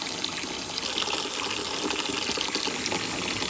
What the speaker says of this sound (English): put a couple squirts of ivory into a bucket and fill it up with hot water